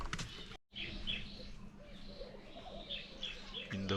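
Birds chirp and call in the Birds of Eden aviary in South Africa, with bright repeated tweets scattered over a busy background, some low rumbling and a brief dropout near the start.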